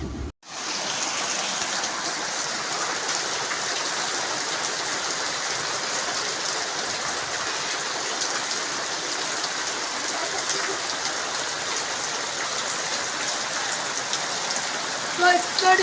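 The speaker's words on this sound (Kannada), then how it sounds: "ಮಳೆ ನಮ್ಮೂರಲ್ಲಿ ಮಳೆ ಬರ್ತಿತ್ತು" Steady rain pours down in a village, a dense, even hiss of drops on surfaces that runs unbroken from start to finish, close and fairly loud.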